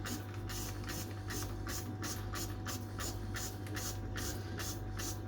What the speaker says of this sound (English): And we trust the old spray gun, which has been completely cleaned out.